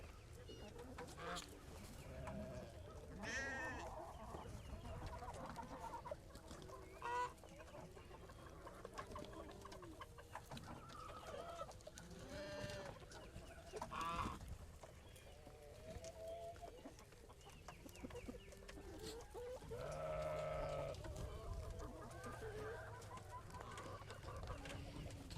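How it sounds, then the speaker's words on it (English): Meat chickens in a brooder cluck and chirp in an overlapping chorus that carries on throughout, fairly quiet and close by, with no one speaking. "We wanted to give you an update on our meat birds. We're standing right here next to the brooder"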